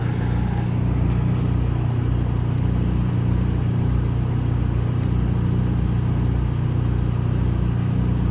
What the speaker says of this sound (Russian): И еще одна машина проехала.